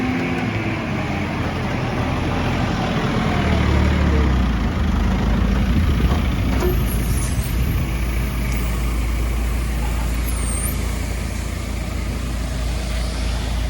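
A loader works on a farm, loading corn out of sheds, with a steady low engine rumble and broadband grainy rush running continuously, fairly loud and close throughout.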